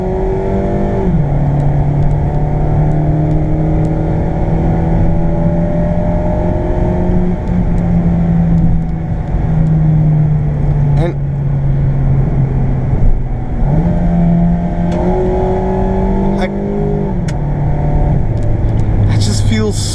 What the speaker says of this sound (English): And the engine sounds quite perky as well.